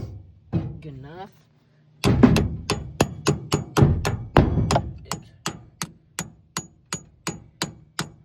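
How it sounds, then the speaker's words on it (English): A hammer drives 12-inch spikes into the ground to anchor a tornado intercept vehicle, with a quick burst of sharp strikes followed by a slower, steady series of loud, close blows. A voice talks briefly just before the hammering begins. "You gotta hammer them in."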